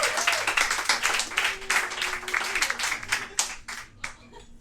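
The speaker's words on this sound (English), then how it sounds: "let's have a big round of applause for the first performer of tonight" Small live pub crowd clapping for the first performer of the night, a few seconds of loose, lively applause that thins out toward the end, with a faint voice underneath.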